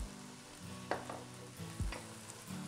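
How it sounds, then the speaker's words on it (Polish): Spices such as sweet red paprika toast gently in a pan, a soft, low sizzle punctuated by a few scraping stirs and light knocks of a utensil. "Musimy przyprawy delikatnie podsmażyć."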